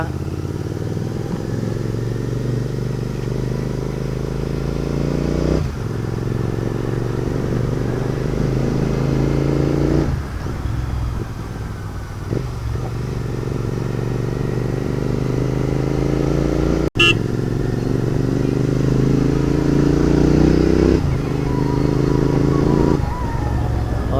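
A GT650 motorcycle out on a road ride, its engine droning steadily and loudly with repeated shifts in pitch as the rider changes gears, plus a brief sharp click partway through.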